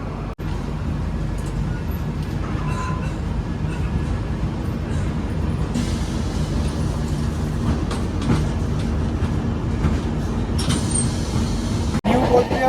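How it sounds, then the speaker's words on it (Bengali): The 12517 Garib Rath Express running on a rainy day between Kolkata and Guwahati after pulling out of a station, a loud, continuous rumble of carriages with occasional clicks and clanks over the rails. "ট্রেন এখান থেকে ছেড়ে তার যাত্রাপথের পরবর্তী হল নিউ আলিপুরদুয়ার জংশনের দিকে এগাচ্ছে"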